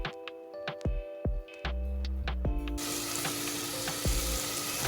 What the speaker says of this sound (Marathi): सगळ्या भाज्या आणि याला मस्तपैकी छान थोडंसं भाजून घ्या, तेलामध्ये परतून घ्या